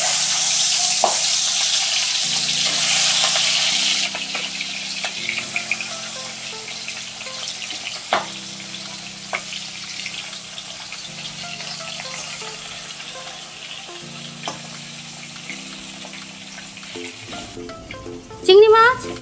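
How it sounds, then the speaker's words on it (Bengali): Golda chingri prawns fry in mustard oil in a kadai, giving a continuous close crackling sizzle with occasional clinks of stirring, and a faint voice now and then. "মাছ ভেজে নেওয়ার জন্য সরষের তেল দিয়ে দিচ্ছি কড়াইতে"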